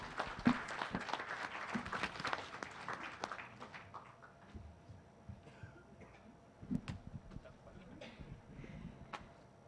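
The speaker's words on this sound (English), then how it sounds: "Again, a big round of applause for our dear Senator Sirwin Gatchayan." Audience at a Philippine Senate basic education committee hearing applauds a senator, loud dense clapping from many hands at first that thins out and fades to scattered claps, with faint voices underneath.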